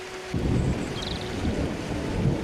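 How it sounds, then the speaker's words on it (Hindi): Heavy storm rain pours down with a deep rumbling, wind-like roar that starts abruptly and stays steady and loud, with no voices. "इतनी बारिश हो रही है"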